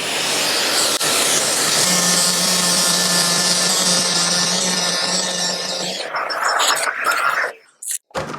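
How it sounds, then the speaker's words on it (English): A power sander works a wood piece while a dust extractor runs, a loud continuous whine with a steady hum that drops off near the end into scattered knocks. "I'll turn on the dust extraction, I'll get sanding."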